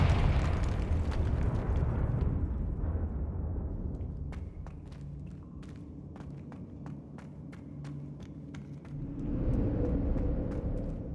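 A Confringo blasting spell explodes in Hogwarts Legacy, a loud booming burst with sustained rumble that fades, then sharp crackling pops scattered through the middle before another swell of roaring noise near the end.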